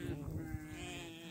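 Sheep in a grazing flock on open pasture bleat repeatedly at close range, several overlapping calls forming a steady, continuous chorus throughout.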